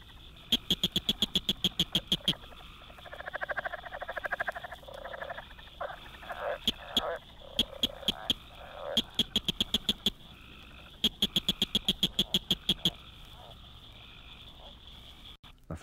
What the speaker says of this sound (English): At the edge of the Ozark Mountains of Missouri, Blanchard's cricket frog, Acris grillus blanchardi,